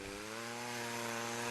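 A chainsaw runs steadily at full throttle while cutting up tornado debris in a small town, a loud continuous buzzing whine held for a moment, close by.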